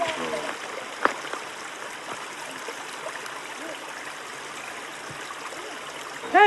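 The Bijoutier brook flows steadily nearby, a soft continuous babbling and trickling with a few small splashes, while someone talks over it.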